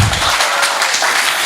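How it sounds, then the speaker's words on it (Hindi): An audience at a Hindi comic poetry recital claps in a dense, loud, continuous wash of applause with no voices over it. "भाई साहब के लिए ताली बजाओ"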